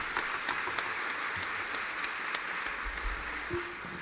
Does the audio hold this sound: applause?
yes